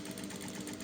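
A sewing machine stitches around the edge of a reversible bucket hat, a fast steady mechanical whirr with even rhythmic needle beats, close and moderately quiet, no speech.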